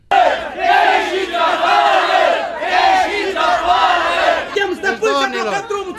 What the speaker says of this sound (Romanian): subprefectul Alexandru Bondre a fost întâmpinat cu huiduieli